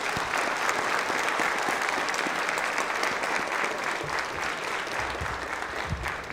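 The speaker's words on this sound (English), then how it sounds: "One more round of applause for our amazing CTE students," Audience applause at a CTE celebration night honoring students: dense, steady clapping from a large crowd, sustained and loud throughout, tapering only slightly near the end.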